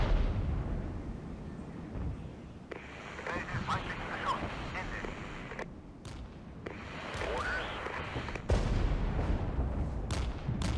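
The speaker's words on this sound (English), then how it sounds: "At least we stopped that mortar fire." Mortar fire in the Regiments war game lands as a few muffled, distant booms spaced a couple of seconds apart, rising above a low rumble of wind and vehicle noise.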